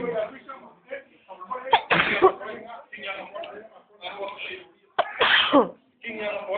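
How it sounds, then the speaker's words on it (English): Two loud, sharp sneezes burst out between stretches of nearby conversation. "sneezing at the moment."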